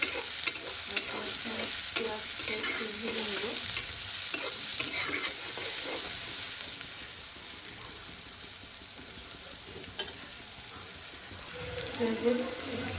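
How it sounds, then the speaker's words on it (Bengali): Onion, chili, cardamom and whole spices frying in hot oil, a continuous close sizzle with stirring scrapes and faint background voices now and then. "তেলের মধ্যে পেঁয়াজ মরিচ আর হচ্ছে এলাচ গরম মশলা এগুলো দিয়ে দিচ্ছি"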